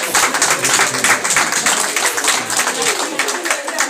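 An audience applauds a flower offering at a Women's Day event, a dense, steady patter of many hands clapping close by that continues throughout, with a voice speaking beneath it.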